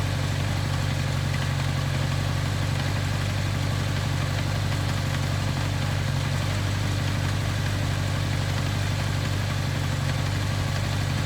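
A 1983 Kawasaki KZ750 Spectre motorcycle engine idles at close range, a steady, loud, even rumble with no break and no voices.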